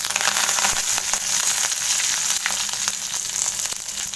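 Curry leaves dropped into hot oil alongside mustard seeds, cloves and fennel crackle and sizzle loudly and steadily, with sharp spitting pops scattered throughout, close up and with no voices.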